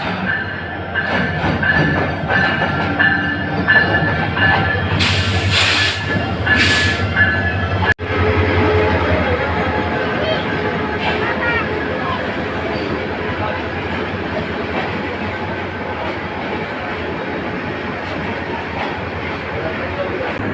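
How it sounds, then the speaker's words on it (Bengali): A metre-gauge Dhaka–Mohanganj intercity express train rumbles into Biman Bandar railway station in Dhaka with rolling wheel clatter and a brief high squeal, a loud clank midway, then a steady heavy rumble. "এই পাশ দিয়ে একটি ট্রেন চলে আসছে বিমানবন্দর রেলওয়ে স্টেশনে"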